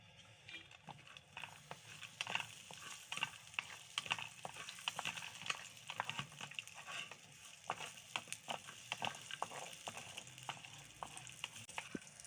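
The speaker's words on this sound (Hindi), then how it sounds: "हमने मेवा जात को अच्छी तरह से भून लिया है, अच्छी तरह से कड़क हो गए हैं।" Dry fruits fry in hot ghee with a soft, continuous sizzle. Quick, sharp stirring clicks and pops come close by, and there is no talk.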